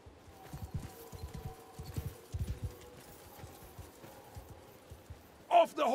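Horses gallop in the medieval battle game Mount & Blade 2: Bannerlord, with rhythmic clip-clop hoofbeats in bursts, fairly faint, and a brief louder noise at the end.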